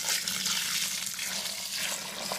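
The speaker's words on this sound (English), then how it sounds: "Okay, so what we're going to do now is add the water," Boiling water runs in a continuous splashing pour into a white wine kit fermenter, a steady close gushing stream that holds fairly constant without pause or talk.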